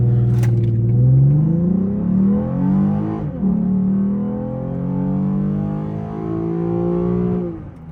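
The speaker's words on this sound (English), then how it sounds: "0 to 60 in sport mode," A 2017 Lexus IS 350 in sport mode with manual shifting runs 0 to 60 mph, the engine note climbing loud and close from inside the cabin, dropping briefly at an upshift, then rising again before easing off.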